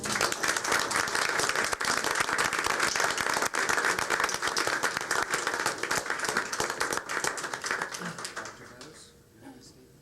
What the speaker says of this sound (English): Ladies and gentlemen, one more round of applause